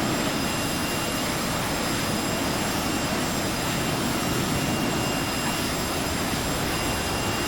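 Cessna Citation Mustang jet engines in a flight simulator game roar steadily and loudly, a constant broadband whine and rush with a faint high tonal whistle and no talk.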